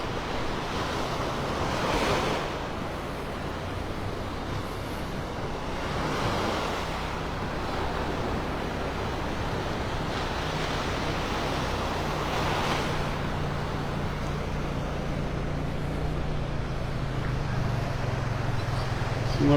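Ocean waves break and wash onto the beach at Clam Pass Park in North Naples, Florida, a steady roaring surf with periodic swells and some wind noise on the microphone, continuous and without voices.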